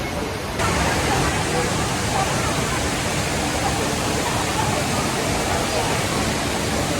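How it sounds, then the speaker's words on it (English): A huge indoor waterfall fountain inside Singapore's Jewel airport roars with a steady, dense rush of falling water that fills the whole space without pause and covers any other sound. "This is inside of an airport. It's one of the largest water fountains."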